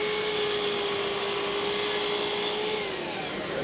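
A miter saw cuts half-inch crown molding held flat, its steady loud whine running throughout before the blade begins slowing to a stop near the end.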